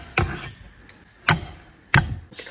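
Three sharp, spaced knife blows on garlic on a cutting board, each a loud close smack crushing the cloves, with quiet gaps between.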